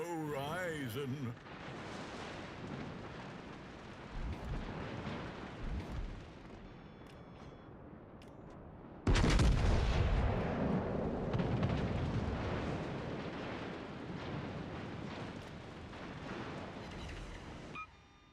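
Battleship artillery fire in a naval video game, heavy booming salvos with rumbling tails, one sudden loud blast midway, under occasional talk.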